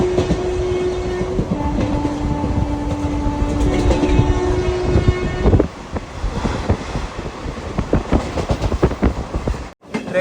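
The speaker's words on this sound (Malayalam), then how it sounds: "ട്രെയിൻ ഇപ്പോൾ ഡൽഹി ഷഹദാര ജംഗ്ഷൻ റെയിൽവേ സ്റ്റേഷനിലേക്ക് എത്തിക്കൊണ്ടിരിക്കുകയാണ്" A Mussoorie Express train rolls into Delhi Shahdara junction, a steady loud rumble of wheels and carriages with sustained tonal squeals and hums for about five seconds, then rattling clanks and rail clatter with wind buffeting the microphone.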